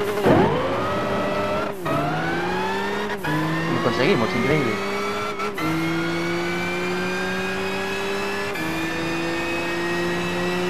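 A 2007 Nissan GT-R Black Mask in Gran Turismo 5 accelerates hard, its engine note climbing through several quick gear shifts to a sustained high whine, with a voice briefly speaking over it.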